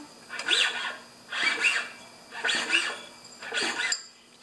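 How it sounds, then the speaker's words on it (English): An old, low-hours lawn mower is spun over by hand with the brake off while something inside rubs, giving four rhythmic squealing bursts about a second apart, fairly faint and with no talking. "Sounds like something's rubbing."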